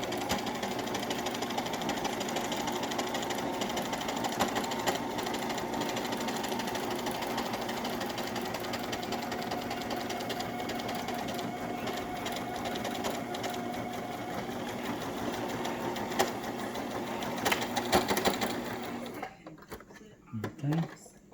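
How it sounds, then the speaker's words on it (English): A sewing machine runs steadily while stitching a cloth mask, a loud continuous mechanical whir that carries on for most of the clip before stopping near the end. A voice can be heard faintly beneath it. "when you sew back up, go forward, back up a little bit, make the stitch stronger"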